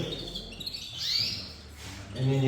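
A yellow cinnamon hard-feather Fife canary hen gives a few short, close chirps and tweets over a faint background, with no talking.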